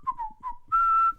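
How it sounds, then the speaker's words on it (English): A person whistles a short, clear tune up close: a few quick wavering notes followed by one longer sustained tone, alone with no talking. "I shouldn't be whistling because I heard that whistling is very, very bad luck when you're on a ship"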